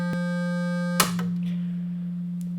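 A steady electronic tone at one pitch, interrupted by a brief click about a second in, after which the note continues smooth and pure.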